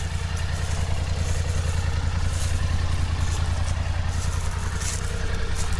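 A stock Polaris Sportsman HighLifter ATV engine runs steadily at idle with a low, pulsing rumble and light mechanical clatter, close and continuous with no talking.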